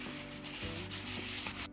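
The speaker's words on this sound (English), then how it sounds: "I'm gonna sand this a little bit" A vintage wooden chest is hand-sanded with 120-grit sandpaper for a furniture makeover. The steady, close abrasive rubbing comes in back-and-forth strokes about every half second and runs continuously. No one talks.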